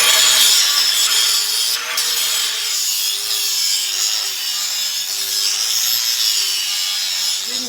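Metal edges are ground round with a continuous, close, harsh grinding hiss and a steady motor whine that wavers slightly throughout.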